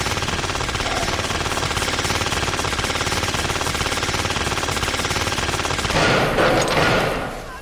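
Sustained automatic gunfire from the video game The Darkness rattles continuously at a steady loud level, swelling into a brighter, harsher burst near the end before cutting off.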